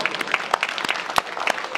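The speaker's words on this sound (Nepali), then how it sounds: "सर्वप्रथम हाम्रो परमेश्वरलाई ताली बजाएर धन्यवाद दिनेछौँ" A small church congregation at a Nepali Christian federation gathering claps in an uneven rhythm, with distinct close hand claps standing out over a softer, moderately loud bed of applause.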